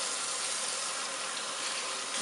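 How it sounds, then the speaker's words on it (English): Water running from a tap into a sink while a plastic bottle is filled, a constant bright rushing gush that stays steady and close for the whole stretch, with no talking. "I'm going to turn this back to cold water because my plastic bottle is getting a little warm here."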